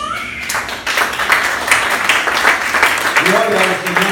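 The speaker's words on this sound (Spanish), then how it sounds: "Dame un aplauso al Señor." A church congregation at a Spanish-language worship service claps for the Lord, producing dense, loud applause throughout, with raised voices and a singing or exclaiming voice rising near the end.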